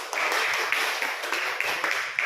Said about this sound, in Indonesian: Sekarang berikan tepuk tangan kepada kelompok tiga yang sudah mempresentasikan hasil diskusi.